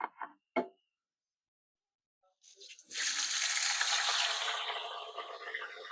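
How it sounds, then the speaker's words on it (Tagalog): Fish dropped into hot cooking oil in a home kitchen: after brief bumps and a pause, a loud steady sizzle and crackle rises and holds, close and continuous. "Pinirito na natin ito at mainit na yung ating mantika."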